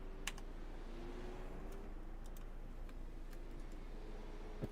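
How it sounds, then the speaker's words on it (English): A single key press on a computer keyboard during an iRacing IndyCar session at Belle Isle, a few faint sharp clicks over a steady low hum of engine drone. "Press I on the keyboard."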